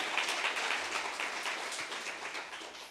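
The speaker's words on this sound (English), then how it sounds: "Could we give a round of applause to them?" Audience at a mental health carers forum applauding the organisers, a dense, steady wash of clapping lasting the whole short stretch at moderate level.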